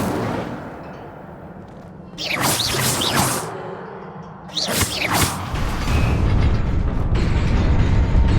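An Incendio fire spell cast in Hogwarts Legacy comes through as two loud whooshing bursts of flame, each with a sharp swelling roar, followed by a rising, crackling rumble that stays loud to the end.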